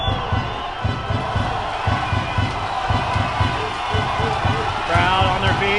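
Crowd cheering and shouting at a 12U youth baseball gold medal game between USA and Mexico, a steady loud roar of voices with rhythmic clapping or stomping running throughout, swelling slightly near the end.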